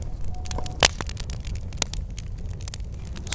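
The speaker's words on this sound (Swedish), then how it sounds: "Det enda man hör det här knastret ifrån liksom från brasan som låter." An open campfire crackles close by with sharp, irregular pops and snaps scattered over a low, steady hiss and rumble, with no voices.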